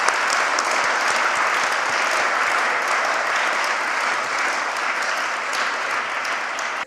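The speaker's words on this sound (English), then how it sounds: "So could we give them just a round of applause?" An audience at a chaplains' conference applauds in a dense, steady round of clapping that holds evenly throughout before cutting off at the end.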